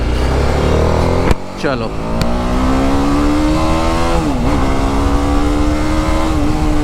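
BMW G310RR motorcycle on new Apollo H1 tyres revving hard and pulling away, a loud close engine whine climbing in pitch through the gears under heavy wind noise, with a short word spoken near the start.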